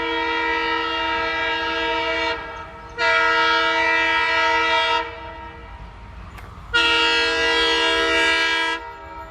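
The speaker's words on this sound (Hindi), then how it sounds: "लोको पायलट को रुक रुक कर लंबी सीटी बजाते हुए निकलना है" Railway locomotive blowing its horn near a level crossing: three long, loud, steady blasts separated by short gaps, with train rumble underneath.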